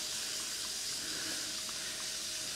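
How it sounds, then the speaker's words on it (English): Water runs from a bath tap in a leaking tub above a shop, a steady soft hiss of flowing water that holds constant throughout, fairly quiet and unbroken by speech. "So what I'll do is just run a little bit of water."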